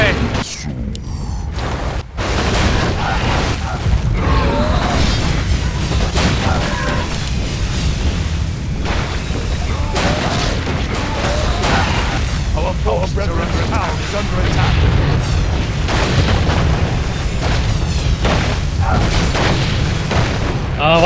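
Deep booming artillery blasts pound a base in a Warcraft III Castle Fight match, a dense run of heavy impacts and mechanical clatter mixed with game noise and some talking.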